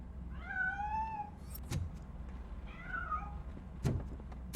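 A cat meows twice in the video game RoboCop Rogue City. Each meow is a clear, drawn-out call, and sharp clicks and knocks from the game's surroundings follow them.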